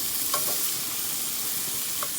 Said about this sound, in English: it's going to help you get a nice sear on these beautiful scallops